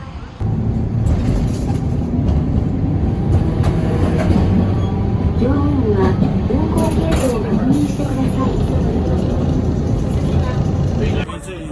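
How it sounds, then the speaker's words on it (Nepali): A train rumbles and rattles steadily close by, a constant heavy drone, with people talking over it partway through. "हाम्रो ट्रेन आयो ल"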